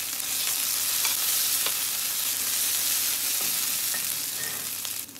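Tomato paste frying in a pan with bullet chillies added, a dense, steady sizzle, with occasional stirring scrapes, that fades slightly at the end.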